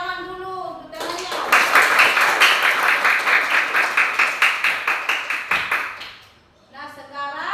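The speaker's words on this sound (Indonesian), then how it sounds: "tepuk tangan dulu untuk temannya" Schoolchildren in a classroom clap for a classmate in a short, rhythmic burst of roughly even beats that rises quickly and fades after several seconds. A voice speaks just before the clapping and again right after it ends.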